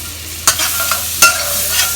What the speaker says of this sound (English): So after that, we just put in the butter.